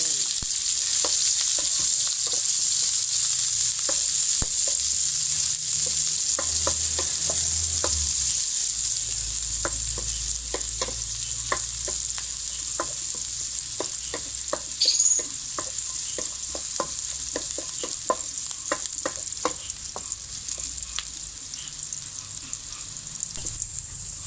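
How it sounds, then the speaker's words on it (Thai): Shallots stir-fry in oil in a pan, giving a steady bright sizzle throughout with frequent scraping and stirring clicks of a utensil against the pan, close and continuous, with no talking. "เจ้าคั่วหอมพอหอมแล้วนะจ๊ะ"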